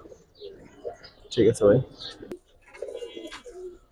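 A silver Indian high flyer pigeon and other birds at a pigeon sale give a few close, soft coos, with a man's brief spoken remark in between.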